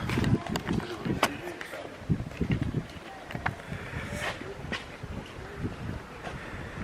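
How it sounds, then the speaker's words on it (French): Strong seaside wind at La Ciotat buffets the microphone in a steady, gusting roar with sharper low thumps, while voices are mixed in throughout. "Ah, il y a un vent de ouf là."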